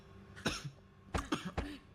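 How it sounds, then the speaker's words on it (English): A character in the Danganronpa video game coughs: one rough cough, then a quick cluster of three harsh coughs, fairly quiet and with no talking. "Is he coughing up blood?"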